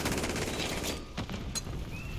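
Rapid gunfire from the JAK Burnout kit gun in a video game crackles in a dense burst, then a few sharper separate shots ring out, loud and close.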